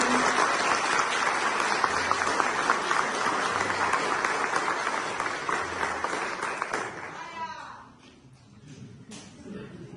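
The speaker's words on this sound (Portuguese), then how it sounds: "Uma salva de palmas" A church congregation at Sunday Mass applauds warmly for about seven seconds, then the clapping fades into quiet room sound with a voice speaking faintly.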